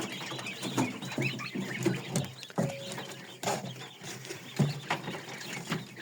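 Chickens cluck in a busy barnyard, with several short clucks and bird calls overlapping at close range amid general farmyard noise.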